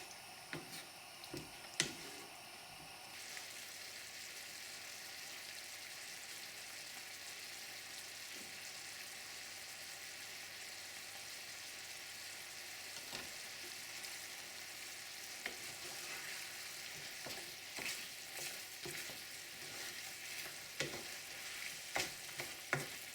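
Chicken of the woods mushroom sweating in a pan, a faint, steady sizzle with scattered ticks and light stirring scrapes, with no talking over it.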